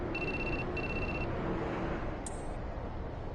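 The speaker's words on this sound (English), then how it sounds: "I think that's your phone going off." Phone ringing in the video game Shin Megami Tensei III on PS4: two short electronic ring bursts, then a brief higher chirp, over a steady low background hum.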